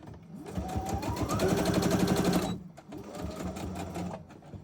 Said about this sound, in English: Run another stitch up the side.